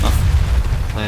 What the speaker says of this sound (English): That's why you don't punch those exploding guys